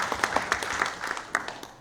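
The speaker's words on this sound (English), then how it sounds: "Give her a round of applause." Audience applause at a sales summit talk, a crowd clapping steadily with scattered sharper claps standing out, fairly close and continuous for under two seconds.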